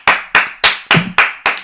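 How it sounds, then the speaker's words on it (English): Six sharp hand claps ring out close and loud at an even, quick pace, each one crisp and cleanly separated. "Full clap."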